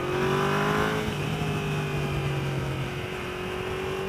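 A 2015 Yamaha VMax motorcycle engine accelerates in second gear with a loud, steady, continuous drone whose tone shifts slightly as it pulls.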